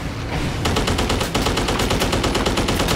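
Aircraft machine guns in the WWII flight game Dogfight 1942 fire a loud, rapid, even burst that runs without a break for most of three seconds.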